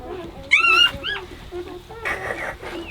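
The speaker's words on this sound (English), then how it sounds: "So we have all different colors of little puppies." Small multicoloured puppies whimper and let out high, wavering yips close by, several cries overlapping, with a low voice faintly underneath.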